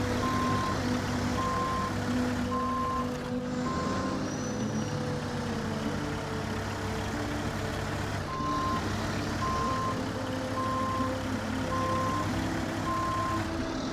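A truck in a video game reverses through a dark area with trees, its engine rumbling low while a steady backup beeper pulses in regular beeps, pausing briefly midway and then resuming.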